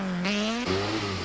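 Castrol Toyota rally car accelerating hard into a stage in the 2002 Tour Natal rally, engine revs climbing loudly then dropping at a gear change and rising again, close and alone.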